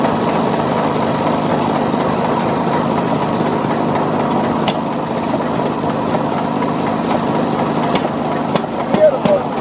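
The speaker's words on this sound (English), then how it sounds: "Heavy oil, single-cylinder stationary engine, used between the late 19th and early 20th centuries." A heavy oil single-cylinder hot head stationary engine from the late 19th to early 20th century runs after a cold start, a loud, steady mechanical chugging that continues throughout.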